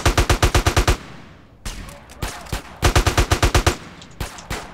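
Rapid minigun fire from GTA San Andreas, delivered as two loud, tightly spaced bursts of cracking shots separated by a pause filled with scattered impacts and lighter gunfire.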